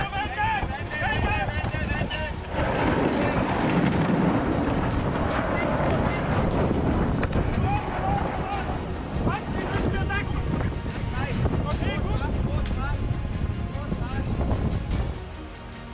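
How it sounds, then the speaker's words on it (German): Strong wind of up to 30 knots roars steadily across the microphone alongside rushing water and racing sailing yachts in a building swell, loud and continuous throughout, with voices faintly mixed in. "Bei bis zu 30 Knoten Wind und anwachsender Welle kämpfen sich die Yachten durch die Kornaten."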